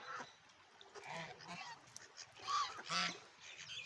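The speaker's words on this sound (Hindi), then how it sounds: "डक्स जो होती हैं ये तो दुश्मन होती हैं मछलियों की" Waterfowl calling by a lake full of fish, a run of honking, quacking calls at moderate distance, some overlapping, with a couple of louder bursts near the end.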